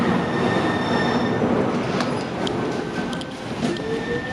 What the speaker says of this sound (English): It is good to be on a warm train.